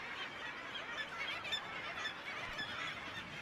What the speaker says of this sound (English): The kittiwake is a very delicate gull. It's also a gull which tells you its name.